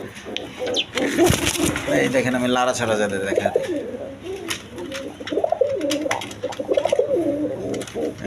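Rasgolla pigeons, including tiger-coloured birds, coo in rhythmic, rolling calls at close range, mixed with someone talking over them throughout.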